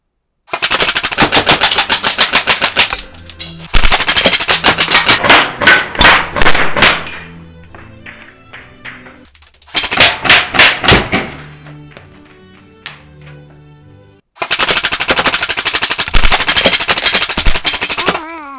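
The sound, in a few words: Arcturus AK12 airsoft gun firing BBs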